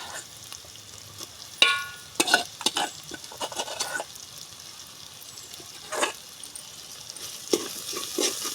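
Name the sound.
stirring prawns frying in a pan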